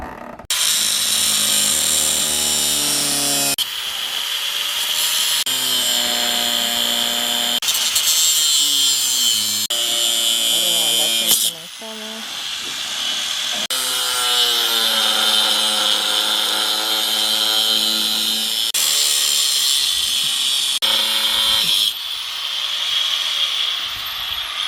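A power tool cuts parts of a sailboat windlass with loud, whining, high-pitched cutting bursts, several long runs separated by brief stops and pitch shifts as the blade bites, close by and without talk.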